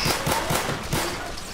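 Gunfire in the Roblox zombie-wave game Zombie Rush, a rapid series of evenly spaced shots, about four or five, punchy and close, repeating in a quick rhythm.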